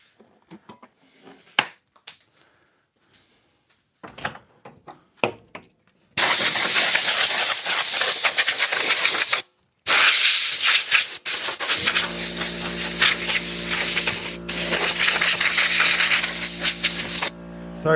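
Loud, continuous spray hisses in long bursts with a brief pause as a resin pour is sprayed off, preceded by faint clinks and taps; a steady low hum joins in toward the end.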